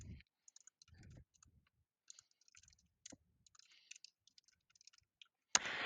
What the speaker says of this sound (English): I will press the Enter key on my keyboard to move one cell down to A2.